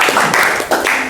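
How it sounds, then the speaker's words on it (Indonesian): A brief burst of clapping in a classroom lesson, a few close, uneven claps from a small group over a short moment. "Tepuk tangan Bu."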